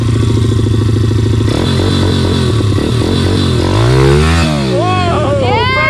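A motorcycle engine roars loud and close, revving in rapid pulses before the clutch is dumped for a stunt, then the pitch sweeps up and down as the bike swings round, with voices calling over it.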